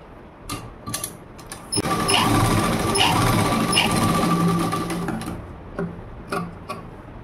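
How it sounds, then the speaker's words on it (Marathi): A sewing machine runs a steady stretch of stitching along a blouse seam, close and clear, framed by a few isolated clicks and fabric handling before and after. "त्यानंतर सरळ बाजूने ठेवल्यानंतर आपल्याला ही अशा प्रकारे उलटी करून त्याच्यावर आपल्याला एक दाब शिलाई द्यायची आहे"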